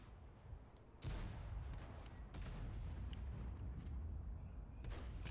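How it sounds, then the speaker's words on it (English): Tank guns fire in the World of Tanks video game, heard as a few booming shots that sound distant and muffled. Steady engine rumble and battle noise run underneath. "Shots down the road."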